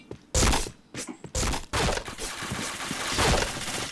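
Bursts of gunfire ring out in a shooter video game: several sharp, loud shots in quick succession early on, then a denser, continuous clatter of fire and impacts.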